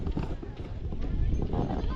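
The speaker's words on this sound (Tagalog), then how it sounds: "Tapos may mga kabayo pa dito na nakawala lang." Loose horses clip-clopping at a ranch tourist spot in Bukidnon, Mindanao, a steady run of hoof thuds under continuous talk close by.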